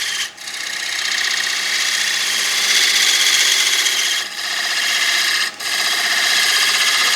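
Chisel taking a light cut on a wooden storage tray spinning on a woodturning lathe, a continuous loud scraping rasp with a few brief dips where the tool lifts off.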